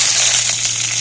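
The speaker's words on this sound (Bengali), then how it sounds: "এইবার আমি কলাগুলো তুলে দিচ্ছি।" Plantain pieces dropped into hot oil sizzle and crackle in a loud, steady hiss close by, with a low hum underneath and no talking.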